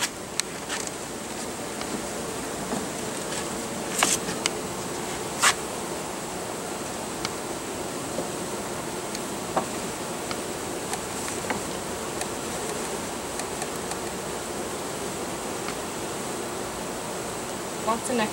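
Steady, dense buzzing of honeybees in a small hive fills the clip, a continuous droning hum with occasional louder passes of individual bees close by.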